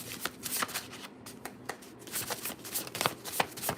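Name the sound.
shuffling a deck of tarot cards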